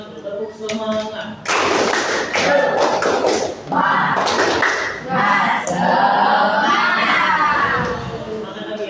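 A school crowd at a Palembang junior high performs a rhythmic spirit clap, bursts of sharp patterned clapping in groups with brief pauses, mixed with children's shouts and chanting voices.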